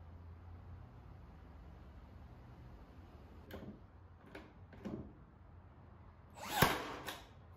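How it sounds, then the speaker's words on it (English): A brad nailer fires several sharp, isolated snaps while fixing wood moulding onto IKEA Tarva drawer fronts, spaced irregularly over a quiet room hum, with the last shots louder and closer. "right now I'm gonna go ahead and use some Gorilla wood glue and my brad nailer to attach these to the drawer fronts"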